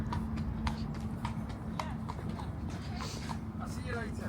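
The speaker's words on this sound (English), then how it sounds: "horses are coming from their stables, crossing over to walk towards the Gallops" Racehorses walk from their stables across a horse crossing toward the gallops at Cheltenham racecourse, hooves clip-clopping in a steady irregular patter under a constant low hum and background chatter.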